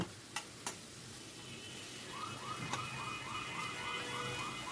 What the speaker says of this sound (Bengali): আমি খুব ভালো করে টমেটোটাকে ভেজে নিচ্ছি